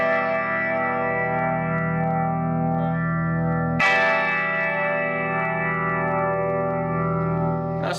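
Electric guitar through a One Control Lemon Yellow compressor pedal, ringing with a sustained, squashed chord that holds steady, then a second chord strummed midway that sustains evenly at full level, with no voices.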